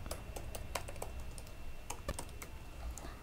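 Quiet, rapid keystrokes on a computer keyboard while code is typed, an irregular patter of soft clicks with no talking.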